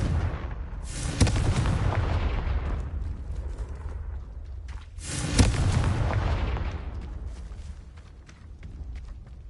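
Fire-spell explosions in the Hogwarts Legacy video game: two loud, heavy booms with rumbling, crackling tails, spaced a few seconds apart and fading between blasts.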